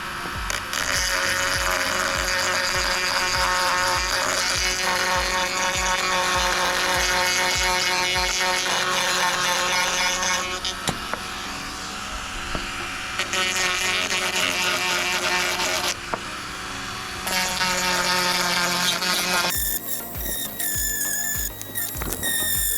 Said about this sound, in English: Alright, I got this flap wheel.